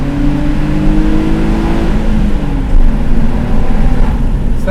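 A 2007 Mitsubishi Eclipse with a V6 engine revs loudly in a tunnel with the windows down, its rising and falling engine tones booming and echoing close by.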